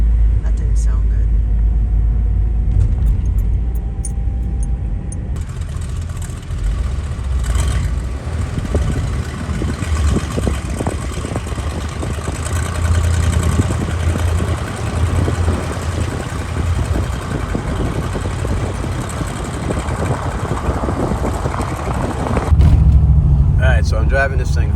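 A 1974 Buick Regal rumbles steadily while driving, with a loud low engine drone and road noise running throughout, rising slightly near the end.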